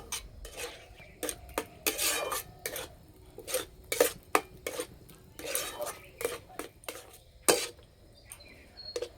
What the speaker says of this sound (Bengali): একদম হালকা আঁচে সুজিটা শক্ত করে রান্না করে নিতে হবে।